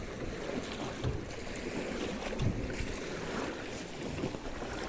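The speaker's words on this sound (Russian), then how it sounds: "Другая лодка." A boat passes on the sea amid lapping waves and wind, a broad rushing wash with a couple of louder swells of water noise, heard from the shore or water at moderate distance.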